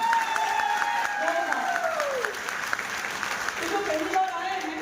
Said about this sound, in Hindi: जो पहली बार आए चाहता हूं इनके लिए जोरदार तालियां